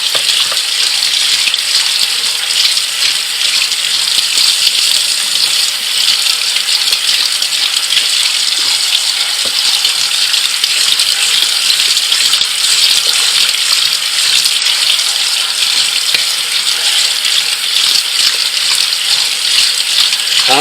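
Tap water gushes steadily into a bucket while heirloom cucumber seeds are rinsed, a loud continuous hissing splash that runs unbroken throughout, with faint scattered knocks beneath.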